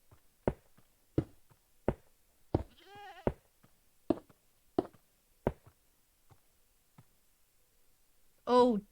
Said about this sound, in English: swear I heard a screaming goat